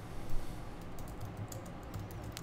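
Code being typed on a computer keyboard while writing a Java Spring JDBC template method: a quiet, steady run of rapid key clicks with a few sharper taps, no voices.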